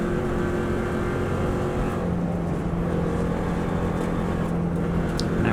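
Subaru WRX STI engine holding a steady, loud drone in 6th gear on the Isle of Man TT course, a constant close in-car roar with wind and road noise and no talking.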